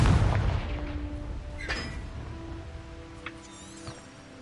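Confringo curse spell explosions in the video game Hogwarts Legacy, a heavy booming blast at the start followed by a decaying rumble and a few smaller crackling impacts, loud and close.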